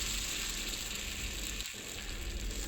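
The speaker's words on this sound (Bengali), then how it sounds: "অয়েলটা গরম হয়ে গেছে, এর মধ্যে আমি ব্যাটারটা দিয়ে দিচ্ছি।" Thin batter dropped into hot oil crackles and sizzles in a steady, close fry, with a brief dip partway through and no talking.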